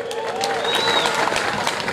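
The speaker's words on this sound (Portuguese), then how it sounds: "se você quiser pode aplaudir" Audience at an evangelical gospel festival in Alta Floresta applauds after a young singer's gospel song, steady broadband clapping mixed with crowd noise, a few whistles and cheers on top.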